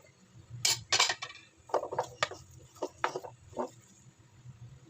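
Spatula or spoon scraping and clinking against a pan while tukwa is stirred and mixed with spring onion leaves, a run of irregular metallic knocks and scrapes, close by, with quiet pauses between strokes.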